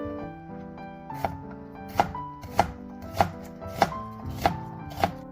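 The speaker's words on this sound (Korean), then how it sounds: "양파는 한 개만 다져주세요" Knife mincing an onion on a cutting board in a steady rhythm, about eight sharp, evenly spaced strokes, with soft music playing underneath.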